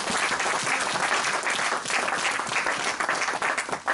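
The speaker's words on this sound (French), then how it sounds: "Donnons une acclamation." A church congregation applauds loudly, dense uninterrupted clapping filling the room for several seconds with scattered crowd noise mixed in.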